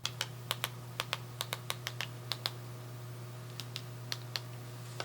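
Keys clack on the small keyboard of a homemade off-grid radio text messenger, sharp isolated clicks in an irregular rhythm over a steady electrical hum, with no talking.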